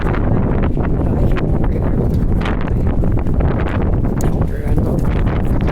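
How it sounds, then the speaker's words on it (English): Strong wind gusts outdoors on a walk through Halifax's North End, heard as a constant heavy low rumble buffeting the microphone, with someone talking over it. "Oh, that's windy right now."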